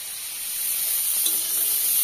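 Cauliflower fries in oil in a wok, a steady close sizzle and hiss that grows slightly louder, with no voices.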